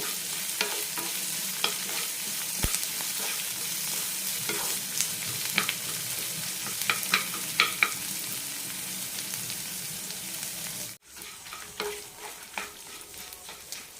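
Sliced onions sauté in a pan with a steady, even sizzle and intermittent stirring clicks and scrapes, continuing after a short break in the sound.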